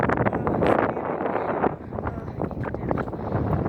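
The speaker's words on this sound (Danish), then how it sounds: "nu blæser det" Outdoors among open fields, wind buffets the microphone in loud, continuous rumbling gusts that swell and ease over several seconds.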